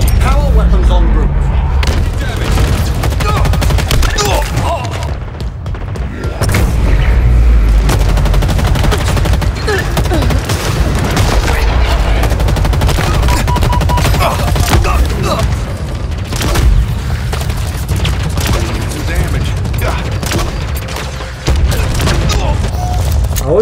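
Dense, nearly continuous gunfire and explosions during a Halo Infinite match, with rapid weapon fire layered over a loud battle din while someone talks throughout.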